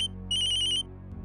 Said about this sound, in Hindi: माँ का फोन है।